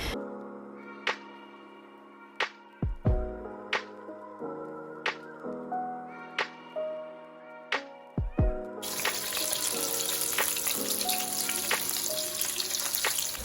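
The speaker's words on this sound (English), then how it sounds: "go on to add in your onions and then allow it to saute for about 3 to 5 minutes" Onions hit hot palm oil in a pot for egusi soup and begin sautéing. A loud, hissing sizzle bursts in partway through and continues steadily under plucked melodic background music.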